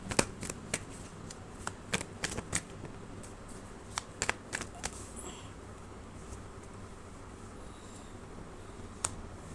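Tarot cards are shuffled during a reading, giving a series of crisp, close riffling snaps in irregular clusters that thin out and give way to near quiet, with one last snap at the end.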